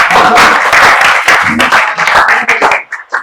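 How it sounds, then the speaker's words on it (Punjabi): Audience applause fills the room, a dense, loud burst of clapping that thins out and trails off into scattered claps near the end. "ਸੋ ਤਾੜੀਆਂ ਲੋ ਵੀ ਕੁੜੀ ਲਈ"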